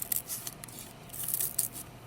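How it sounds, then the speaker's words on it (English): Scissors snipping through paper during a loom weaving craft, a quick series of soft, crisp cuts at close range, with no talking. "Now you can put your scissors away."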